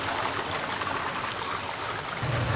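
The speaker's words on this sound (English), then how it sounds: "We're adding more water to the system, we're charging it." Water pours steadily into the tank of a coffee wet mill, a continuous broadband rushing and splashing flow that fills the whole clip with no voices.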